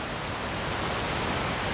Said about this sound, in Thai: เบื้องหลังนะคะ เป็นน้ำตกน้ำตกใหญ่มากๆเลยค่ะ